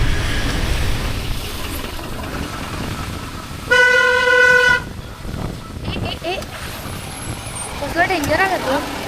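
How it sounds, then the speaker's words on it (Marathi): Heavy city traffic near TCS, dense with two-wheelers and cars, rumbles throughout, and one long, loud car horn blast sounds near the middle with a few fainter honks later, under a person talking. "खूप ट्रॅफिक आहे बघा"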